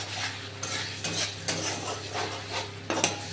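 Ginger paste with spices and salt fried in a pan for chicken curry, a spoon stirring and scraping in irregular strokes over a steady sizzle, close up with no talk.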